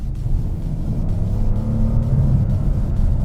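A 2014 Chrysler 300 SRT with a 6.4L HEMI V8 accelerating through a corner, heard from inside as a deep, steady engine rumble that builds and swells, loud and close.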